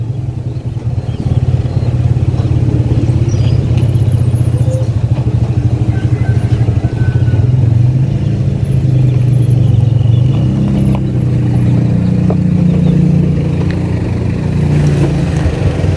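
Motorcycle arriving, its engine a steady close putter and rumble that holds for several seconds with some clatter, loud and near.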